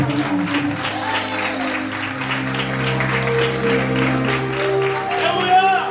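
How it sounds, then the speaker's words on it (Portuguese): A church congregation applauds at length during a sermon, its clapping running under sustained organ or keyboard chords and a voice. "Você vai aplaudir Jesus e vai ficar."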